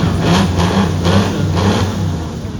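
A classic car's deep engine, at a concours event, revs repeatedly through a large exhaust, loud and close, rising and falling in a throaty rumble.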